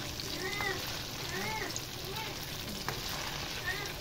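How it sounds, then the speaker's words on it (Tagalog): Tofu frying in a pan gives a steady, dense sizzle and crackle throughout, with faint clinks of stirring and some background sounds over it. "Magluluto tayo guys ng sizzling tofu."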